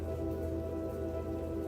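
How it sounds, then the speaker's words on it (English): Broccoli boils in a pot on a stove, giving a steady close bubbling hiss and hum that continues without a break and without any voices. "Well, I am boiling broccoli."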